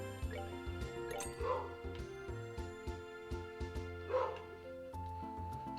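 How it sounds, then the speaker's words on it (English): A dog barks in the background over game music, with a few soft, muffled woofs and yips spread through the clip, faint and distant. "I got a barking dog in the background."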